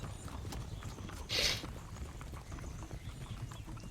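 Horse hooves clip-clop at a trot as a sound effect in background music, a quiet rhythmic patter running through with a brief brighter whinny-like burst partway along.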